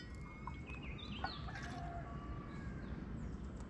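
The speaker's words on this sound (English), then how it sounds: "Is that like a bird dying?" A bird calls outdoors on a mountain hike, a few faint, scattered chirps and clucking notes over steady background noise and wind.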